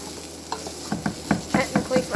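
Lentils frying and simmering in a pan for a pumpkin recipe, a quiet sizzle broken by a quickening series of soft stirring scrapes and bubbling pops close by.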